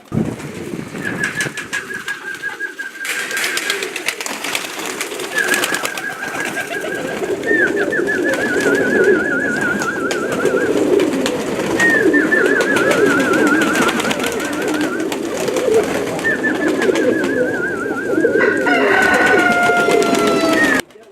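Sport racing pigeons coo in a loft, with repeated rolling calls about every four seconds over a constant dense wash of flock noise and fluttering, close and fairly loud.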